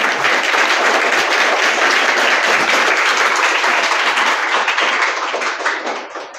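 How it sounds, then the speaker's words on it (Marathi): Loud, sustained applause from a crowd at a school summer camp closing ceremony at Shri Shivaji High School, Vanoja. Many hands clap in a dense roar that tapers off slightly toward the end. "तुमच्यासाठी जोरदार टाळ्या एकदा."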